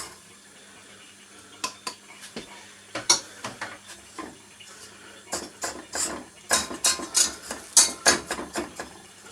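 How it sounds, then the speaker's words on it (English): Spoon scraping and clicking in a pan while mixing melted butter, sugar and cocoa over low heat, an irregular run of close, crisp strokes that grows busier and more rhythmic toward the end. "Mix it until all of your cocoa and your sugar is dissolved"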